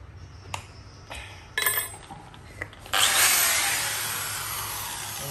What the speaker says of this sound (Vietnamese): Bắn vít nhé cả nhà nhé.